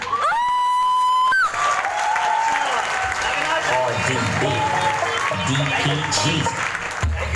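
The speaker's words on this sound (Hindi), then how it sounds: "ताली बजाना तो वैसा बजाओ जो मेरे पगड़ी के अंदर तक जाता है।" Audience applause at a gathering breaks out after a short steady tone, a dense, loud wash of clapping that carries on to the end while some voices sound beneath it.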